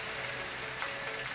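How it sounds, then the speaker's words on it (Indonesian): Steady rain pours down at a roadside coffee stall on a foggy, windswept mountain road with sharp bends, a continuous dense hiss close by with no talking. "Nggak kuat menerjang hujan"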